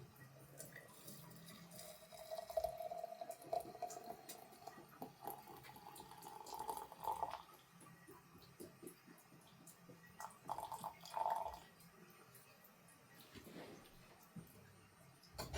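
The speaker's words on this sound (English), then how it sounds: "add the water from the pot" Water from a pot poured for tea, a soft, steady liquid trickle and splash running for about fifteen seconds with brief louder gurgles near the middle and end, fairly close and unaccompanied by talk.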